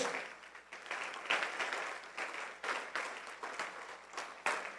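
A church congregation applauds for Jesus, a soft, distant wash of many hands clapping steadily with no voice over it.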